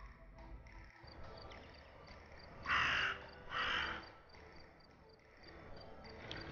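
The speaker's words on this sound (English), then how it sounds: "Hey, look, a new raven." Two harsh raven caws in Detective Hayseed - Hollywood, each a short rough burst about a second apart, standing out over a quiet game ambience with faint insect-like chirping.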